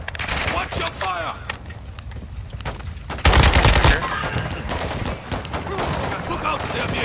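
Automatic gunfire in Call of Duty: Modern Warfare II, a dense crackle of shots with a loud heavy burst near the middle and scattered fire afterward, while players talk over the action.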